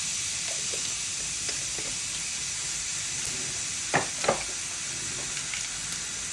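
Dried chilies sizzle in hot oil with five-spice for tempering dal, a steady close hiss throughout, broken by a couple of sharp clatters of a spoon or utensil near the middle.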